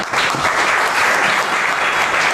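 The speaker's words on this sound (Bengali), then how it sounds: "আমরা প্রথমেই তাকে করতালি দিয়ে স্বাগত জানাচ্ছি" A large crowd claps steadily and loudly throughout, a dense, even wash of applause with no voices standing out.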